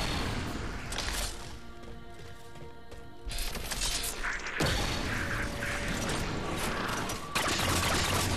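Rapid weapon fire in Halo 4 from a fast-shooting gun with little recoil, heard as dense mechanical clattering bursts with crashing impacts, loud and close, with no talking.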